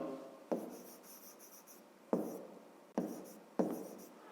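Numbers are handwritten on paper, with four distinct pen taps and scratchy strokes spaced irregularly, close and quiet, with no talking.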